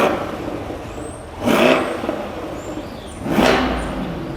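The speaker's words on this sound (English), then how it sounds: "Here's a sound comparison between the C8 and the C6" A Chevrolet Corvette C8 sports car's engine revs up twice, each surge rising sharply then easing off, heard from close by with no talking.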